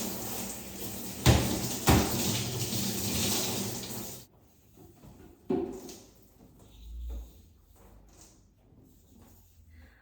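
Tap water running during a hair rinse, a steady hiss for about four seconds with a couple of sharp knocks, then cutting off to quiet room sounds, a brief thud and faint drips.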